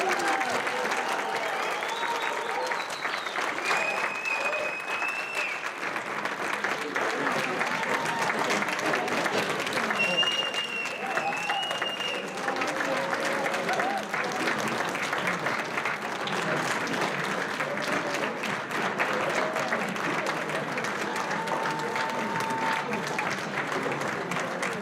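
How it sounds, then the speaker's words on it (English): Sustained applause from a large audience at a December 2022 nursing pinning ceremony, dense and steady for the whole stretch with a few scattered cheers and whistles rising above the clapping. "Let's give one final huge round of applause for all 19."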